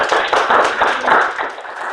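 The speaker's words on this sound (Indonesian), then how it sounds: "Kita kasih aplaus." Audience applause after a speaker's remarks at a law faculty debate session, a dense burst of many hands clapping close by that tapers slightly toward the end.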